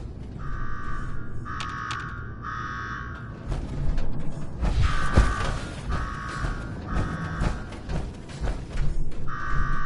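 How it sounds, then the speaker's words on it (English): An electronic alarm in the video game Fallout 4: Nuka-World beeps in repeated short bursts over a rumbling, noisy background, pausing briefly before starting again. "Now go shut off that damn alarm."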